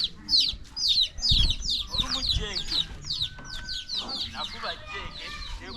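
Mother hen clucking in a farmyard, a rapid run of short repeated clucks and squawks, close and fairly loud, with other fowl chattering and faint low thumps beneath.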